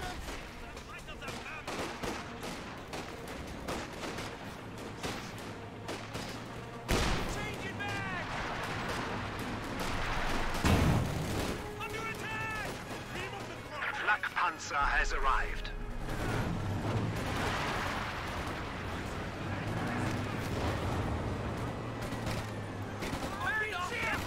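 Gunfire in the real-time strategy game Company of Heroes 2 pops and rattles in repeated bursts amid explosions and battle noise, running continuously under a commentator's voice.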